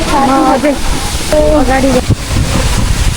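Strong wind buffets the microphone beside a waterfall near Pokhara during a canyoning trip, a constant rushing roar under a person's talk.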